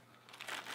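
Plastic packaging crinkles and crackles briefly up close as it is handled and pulled away, quiet and short with no talk.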